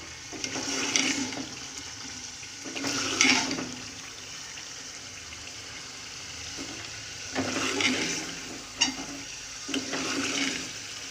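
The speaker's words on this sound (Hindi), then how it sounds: "थोड़ा चूल्हा गैस की फ्लेम बढ़ा के मैं इसको भून रही हूँ।" Beef sizzles as it is fried bhuna-style in a pan over a raised gas flame, with several louder bursts of hissing as the meat is stirred and quieter frying between them.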